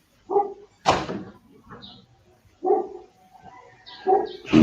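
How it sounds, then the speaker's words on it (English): A dog barks in short, sharp bursts, roughly five separate barks spaced irregularly over a few seconds, fairly close and loud, with a brief faint higher sound between them. "The dog wants to kill people."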